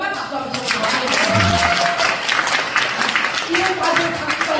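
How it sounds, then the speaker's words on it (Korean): Audience clapping at a Korean compensation-plan presentation fills the room as a steady, dense patter of many hands, with a speaker's voice carrying over it. "난 1억 꼭 받아야겠다는 분들만 박수 한번 쳐주세요."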